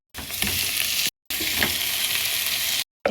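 Chicken pieces fry with garlic in a hot pan, giving a loud, continuous sizzle and crackle. The sound breaks off for a moment partway through and then resumes at the same level.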